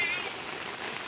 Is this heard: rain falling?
yes